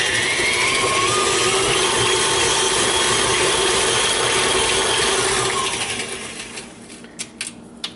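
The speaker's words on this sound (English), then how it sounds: "Just mix a little more for about a few seconds until it's nice and creamy and more." Oatmeal cookie batter is mixed with a loud, steady mechanical whirring and rattling. The noise drops away after about six seconds, leaving a few light clicks and taps.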